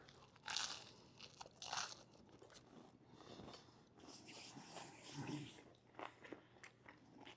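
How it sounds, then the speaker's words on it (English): Close, crisp crunching bites and chewing of a chicken salad sandwich on crunchy bread with pickles and giardiniera, several sharp bites followed by steady moist chewing, fairly faint and intimate. "It's got a nice crunch from the pickles and the giardiniera."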